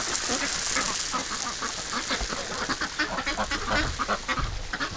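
A small wintering flock of ducks and geese quacks and honks in a dense, close chorus of overlapping calls, steady throughout with no talking.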